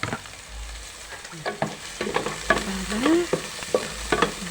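Onion and ginger sautéing in a pan: steady close sizzling and frying with repeated stirring scrapes and clinks of a utensil against the pan, fairly loud and without talk.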